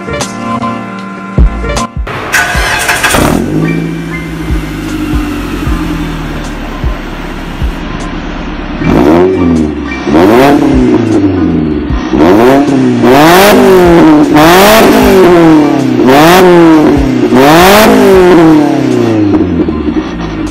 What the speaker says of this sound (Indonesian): gua starterin biar kalian langsung dengar aja